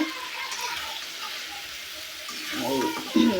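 Vegetables with soft potato sautéing in a pan during village-style Bengali home cooking, a steady close sizzle and frying hiss with light stirring scrapes that grow a little busier near the end.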